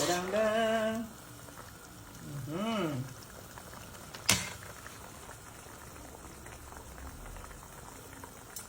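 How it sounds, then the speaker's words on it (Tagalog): Liquid bubbling at a low simmer, a soft steady burble under brief speech, with a sharp clink partway through. "Yan na, kumukulo na."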